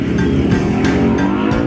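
Kawasaki Versys 650 motorcycle pulling away, its engine revving loudly and steadily up close with rising pitch shifts, no voices over it.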